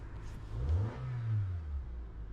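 A 2005 Honda Accord with a P0341 VTEC solenoid code and freshly replaced cam sensors starts up: a brief rising rev, then settles into a steady, smooth engine hum, fairly quiet and with no voices.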